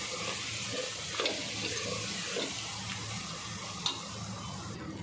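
Spiced masala with red chilli powder and tomatoes being stirred in a pan, a soft low sizzle with faint scraping of the spoon and a couple of small clinks, quiet and close.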